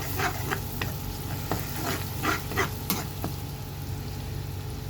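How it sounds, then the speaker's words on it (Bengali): Vegetables and spices stir-fried in a pan make a steady low sizzle, with repeated scraping strokes of a spatula standing out every half second or so, fairly close and with no talking. "এখন ভালো করে হালকা হালকা কষাবো"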